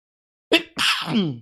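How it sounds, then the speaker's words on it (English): One person sneezes once, close and fairly loud: a quick sharp intake followed by a voiced, drawn-out burst that trails off. "Excuse me, I gotta sneeze."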